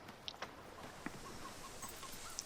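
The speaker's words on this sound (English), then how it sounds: "Come on, chickens. Follow me." Chickens clucking in the video game Fable 3: several short, soft clucks and chirps scattered over a steady low ambient hiss, fairly faint and intermittent.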